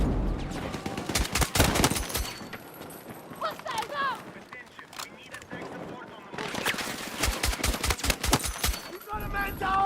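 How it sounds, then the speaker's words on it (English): A light machine gun fires in a video game in long, rapid, loud bursts, two sustained strings of shots split by a quieter stretch, with a voice talking over parts of it. "Why did he fire the LMG and then ran off?"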